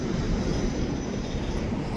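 A switcher locomotive moving through a city rail yard, a steady low rumble of rolling wheels and engine noise holding evenly throughout at moderate distance.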